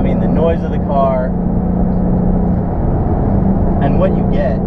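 Hertz Penske Mustang GT engine, a steady low rumble running throughout, loud and close, with people talking over it intermittently.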